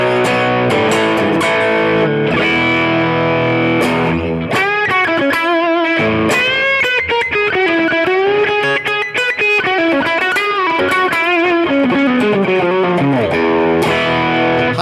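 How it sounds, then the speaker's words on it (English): Electric guitar played through a Fender Deluxe Reverb amp with a pedal in front, driven and slightly distorted: ringing chords and then a fast run of single notes, loud and close, with no talking. "deluxe reverb with a little pedal in front of it."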